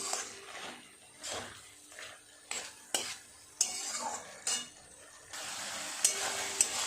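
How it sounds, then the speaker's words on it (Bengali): A spatula stirs kochur loti (taro stolon) with prawns in a pan, giving repeated scraping strokes and metallic clinks against the pan over a soft, steady sizzle of frying. "আর একটু নেড়ে চেড়ে শুকনো শুকনো করে নামিয়ে নেব"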